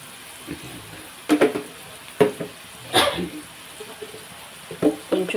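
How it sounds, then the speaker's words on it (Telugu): Onions fry in a pan with salt and turmeric, giving a soft, steady sizzle broken by a few sharp scraping stirs, heard close by with no talking. "ఇది కొంచెం బాగా ఉల్లిపాయ మగ్గుతుంది."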